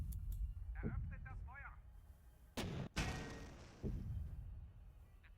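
Tank cannon shots boom in a turn-based WWII strategy game, two sharp heavy blasts in close succession followed by a later thump, each trailing off in a rumbling decay, with talk in between.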